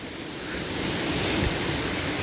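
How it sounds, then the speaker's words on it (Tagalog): Large waves pound the shore during Typhoon Aghon in Masbate, Philippines, a dense, loud roar of surf mixed with gusting wind noise, rising slightly and continuous, with no voices. "Ang laki na ng mga alon, guys."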